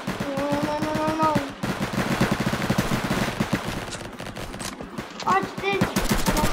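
Rapid bursts of automatic gunfire in a Roblox red versus blue capture-the-flag game, dense volleys filling most of the stretch, mixed with game sound effects and brief rising tones.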